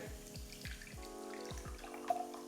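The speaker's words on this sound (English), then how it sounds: "Through a fine mesh strainer, just pour this through." Cooking liquid with solids is poured through a fine mesh strainer into a bowl, making a close, steady trickle broken by several soft dull knocks and a brief clink near the end.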